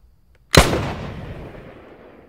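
A single loud rifle shot aimed at distant soldiers in a Civil War setting cracks sharply after a brief quiet, then rolls into a long fading echo with nothing else audible.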